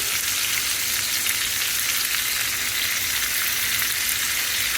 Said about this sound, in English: Let's go ahead and add our onions now.